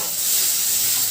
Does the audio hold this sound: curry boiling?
yes